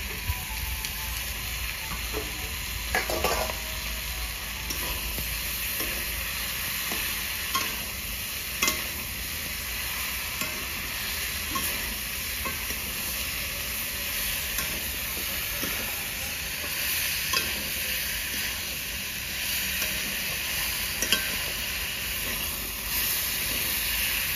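Steady frying sizzle and hiss from a pan of chicken kosha curry as capsicum goes in, with stirring scrapes throughout, close and continuous with no talk.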